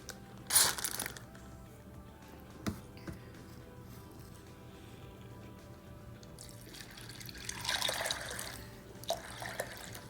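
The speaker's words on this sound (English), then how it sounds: "You see, I give them a lot of water." Water splashes over dried chickpeas in a bowl for soaking, with two short bursts of pouring separated by quieter trickling and faint dripping.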